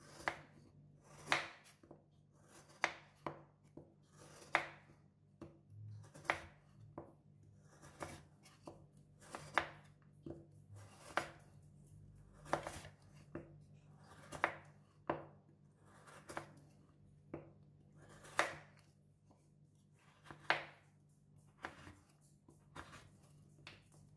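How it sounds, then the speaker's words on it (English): A knife chops through a block of gula melaka palm sugar in a steady run of sharp, close, dry cutting knocks over a low background hum, with no talking. "It's very easy to chop it with knife."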